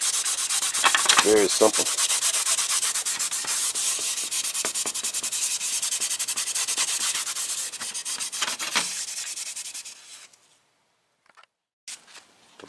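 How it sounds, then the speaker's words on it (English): A maroon Scotch-Brite pad scuffs a custom fiberglass dashboard for a cracked Monte Carlo SS repair, loud close continuous rubbing strokes for about ten seconds, then near silence with a brief rub; a voice speaks briefly. "Here's the maroon Scotch Brite. I'm just gonna be scuffing it up."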